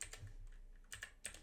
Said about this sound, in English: you want to type in